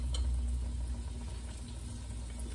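Squash slices frying in hot oil give a soft, steady sizzle over a low background hum, faint and continuous for a couple of seconds.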